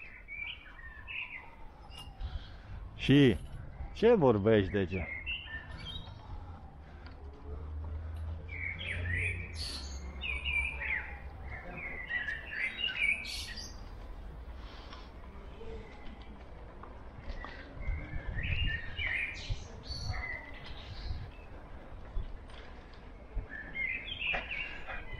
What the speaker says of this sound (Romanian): Auzi ce cântă păsărica.